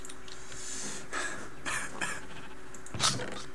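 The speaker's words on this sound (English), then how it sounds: "Yeah, that's coughing." A few rough coughs and throat-clearing bursts come through over quiet background noise, with a louder, harsher cough near the end.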